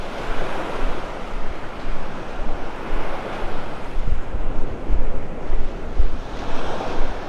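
Ocean surf rolls in steadily on a beach in North Naples, Florida, a broad continuous wash of breaking waves with wind buffeting the microphone and no voices.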